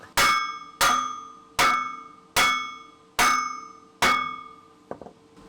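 Six evenly spaced metallic hammer strikes ring out on a steel track piece for a homemade sawmill, each a bright clang that decays slowly, close and clear, followed by a couple of faint lighter taps.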